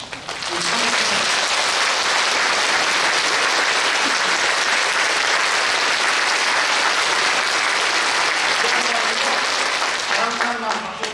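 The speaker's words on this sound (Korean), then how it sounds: "좀 박수 한번 주세요" A church congregation at a national Liberation Day 80th anniversary worship service claps loudly and continuously, the applause swelling quickly and holding steady, with faint voices heard underneath.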